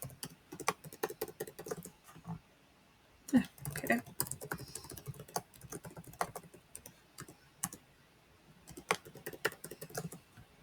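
Computer keyboard typing in a quiet office setting, clusters of quick soft key clicks in irregular bursts with pauses between, close and moderately quiet, with faint speech-like sounds in places.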